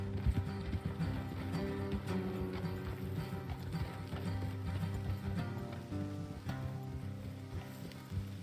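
Hooves clip-clop in a steady rhythm as horses trot along a road in Red Dead Redemption 2, with a brief whinny and a low musical drone in the background.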